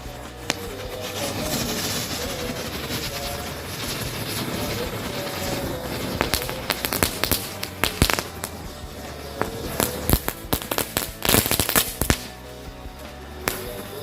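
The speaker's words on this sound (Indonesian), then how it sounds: "selanjutnya kita nyalakan satu pak mercon Happy Thunder." A pack of Happy Thunder firecrackers going off at night during Ramadan, starting with a hissing fizz and then breaking into a rapid, uneven run of loud sharp cracks and bangs close by.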